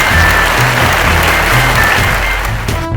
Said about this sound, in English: My applause.